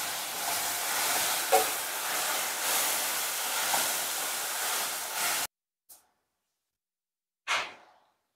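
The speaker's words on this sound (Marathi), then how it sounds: "कांदा टाकलेला आहे परतायला. इथं शिमला मिरच थोडीशी परतून घ्यायची." Onion and capsicum fry in a wok as part of a large batch of vegetables, giving a loud, steady sizzling hiss that cuts off abruptly, followed by near silence and two brief bursts of sizzle.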